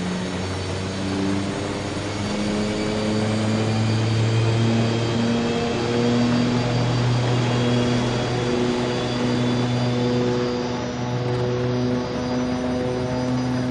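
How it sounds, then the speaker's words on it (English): Aircraft engine running up in the X-Plane flight simulator, a DHC-6 Twin Otter turboprop on an Arctic rescue scenario: a steady loud droning whine with strong low harmonic tones and rising pitch, continuous with no talking. "Try to get the engine started."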